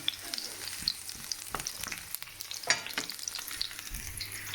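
Jumbo shrimp and garlic fry in a pan over moderate heat, a soft, steady sizzle broken by occasional scrapes and clinks of stirring, fairly quiet and close, with no talk.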